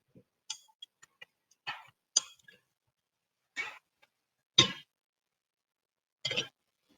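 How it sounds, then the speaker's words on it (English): Ice cubes dropped into a cocktail shaker while making a Grasshopper cocktail, heard as a scattered series of sharp clinks and clatters, some single and some clustered, close and fairly quiet in an otherwise silent setting. "I'm just going to chuck some ice into the shaker."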